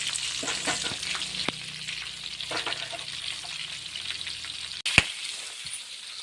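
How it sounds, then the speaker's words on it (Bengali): Prawns coated in turmeric, salt and Kashmiri chilli fry in oil in a wok, sizzling steadily and close throughout, with occasional stirring scrapes and one sharp clink near the end. "চিংড়ি মাছগুলোকে আমি ভালো করে লাল লাল করে ভেজে নিচ্ছি।"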